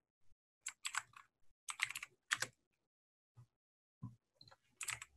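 Close, crisp keystrokes on a computer keyboard as a Google search is typed, coming in short irregular bursts of rapid clicks separated by pauses in an otherwise quiet room.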